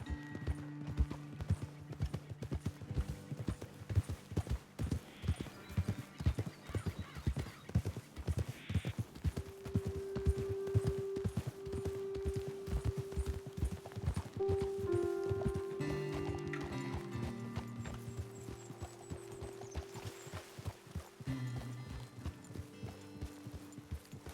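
Steady clip-clop of horse hooves at a walking pace in the video game Red Dead Redemption II, with occasional snorts and a faint whinny over a low ambient backdrop.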